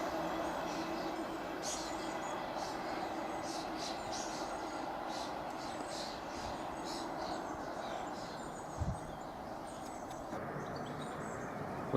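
Class 153 diesel multiple unit running empty stock through a small rural station, a faint, distant rumble with light rail clatter under ambient birdsong, no speech.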